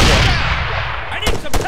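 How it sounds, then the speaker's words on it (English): Gunfire in the military game ArmA 3: a loud, sustained roar of shooting and rumble, then two sharp, close shots near the end. "She's shooting at you now"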